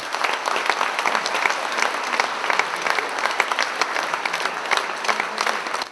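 Prolonged applause at a governor's inauguration in the Kursk region, a large crowd clapping steadily with crisp individual claps showing through the dense, sustained roar.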